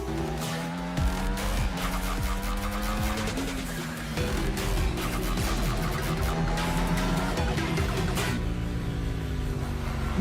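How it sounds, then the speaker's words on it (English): Race car engines roar steadily in a video game tournament, revving through rising and falling pitches while tires squeal and skid, a dense continuous wall of loud motor noise for the whole stretch with no talk. "Engines roaring and ready to go."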